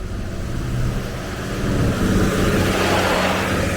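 A city bus moves along the street with a rising engine whir and road noise, growing louder as it accelerates close by.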